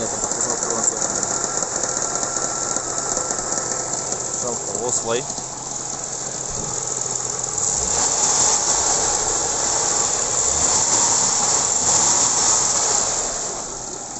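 Running car engine with a roller or generator making a slight noise: steady mechanical whirring with fine ratchet-like ticking throughout, swelling louder toward the end, with a brief spoken remark early on.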